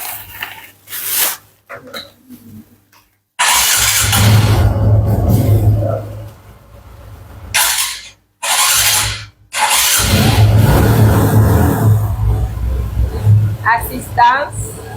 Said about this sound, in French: Il faut allumer la moto.